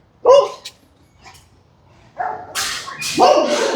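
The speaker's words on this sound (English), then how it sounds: "Here are the neighbor's dogs." Neighbouring dogs behind a fence bark in several sharp, loud bursts, first one or two close yelps and then a busier cluster of overlapping barks.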